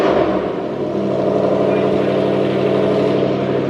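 A McLaren Senna supercar pulls away under hard throttle, its loud, dense engine note droning steadily and close by for the whole stretch without any voices.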